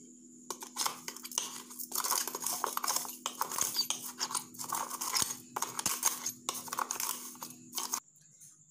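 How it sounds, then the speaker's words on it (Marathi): A spoon stirs sugar and instant coffee in a cup, making rapid, repeated metallic clinks and scrapes in quick bursts over several seconds, close and fairly quiet, before stopping abruptly. "हे व्यवस्थित असं मिक्स करून घ्यायचं आपण"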